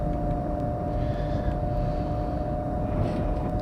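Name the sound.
airplane passing in Train Simulator Classic video game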